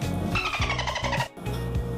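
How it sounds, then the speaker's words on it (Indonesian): A beloved family car pulling away at the start of a trip to Kejawanan Beach in Cirebon, its engine running steadily and close with a brief dip partway through, and no talking. "Kita berangkat bersama mobil kesayangan kita."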